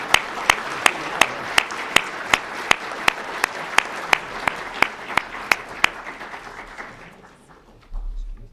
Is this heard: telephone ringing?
no